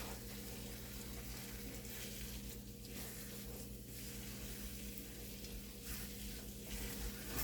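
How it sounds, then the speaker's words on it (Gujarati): Dal lentils roasting in a pan for khasta kachori, a steady, soft sizzle with faint stirring scrapes, continuous and unbroken with no talking. "આપણે દાળને શેકાવા દેવાની છે બરાબર."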